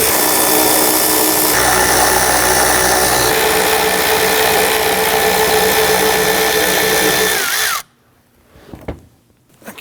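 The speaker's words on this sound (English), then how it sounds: "We're going to use a deep 11mm socket. You want to loosen and remove all 4 of these." A power tool with a deep 11mm socket spins off the tail light nuts on a 2010-2019 Ford Taurus, a loud steady whirring drone for about eight seconds that cuts off abruptly, followed by a few faint clicks and handling sounds.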